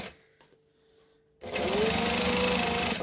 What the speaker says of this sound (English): And then I'm going to top stitch that down.